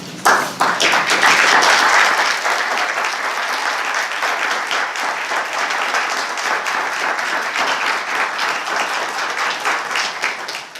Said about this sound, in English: let us give you a round of applause for your good work